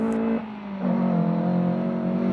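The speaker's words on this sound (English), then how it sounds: "The youngest driver in the field, Raj Veer, was pushing his Datsun 160J" A Datsun 160J rally car engine at the East African Mini Classic Rally, a steady droning roar that dips briefly then climbs back to a sustained tone as it holds revs nearby.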